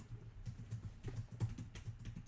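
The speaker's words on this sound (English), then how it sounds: "I'm typing questions." Fingers tapping away on a computer keyboard during a live stream, a quiet, irregular patter of keystrokes with small bursts and pauses, heard up close and without talk.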